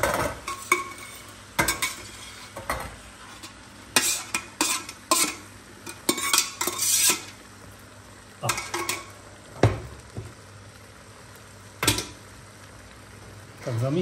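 Cooked beans being stirred for chili con carne: a spoon scrapes and clinks against the pot in irregular bursts, moderately close, with quiet pauses between strokes and faint kitchen background.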